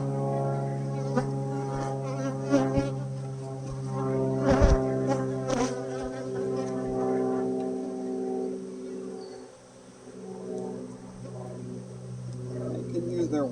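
Angry honey bees swarming a hive during a colony transfer, a dense, sustained drone of many wings close to the microphone, with someone talking over it and occasional knocks of hive equipment.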